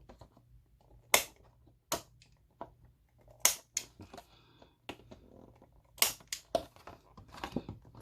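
A corner rounding punch snaps through the cover of a DIY Hobonichi planner in a series of sharp, separate clicks and crunches, close and fairly loud, with quiet pauses between the cuts and no talking.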